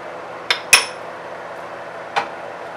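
Balsamic vinegar is stirred into a sweet and sour sauce over very low heat, heard as three distinct metallic clinks of a utensil against the pan over a quiet, steady background.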